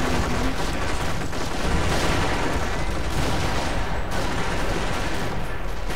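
Continuous wall of battle noise from Company of Heroes, with a US 75mm artillery gun firing amid dense gunfire and booms, loud and unbroken throughout.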